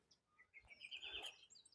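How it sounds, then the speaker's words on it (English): Birds chirp and call overhead at a Maasai sugarcane field: a faint, thin run of high tweets and short trills with soft outdoor background and no talking. "you can listen to the birds above"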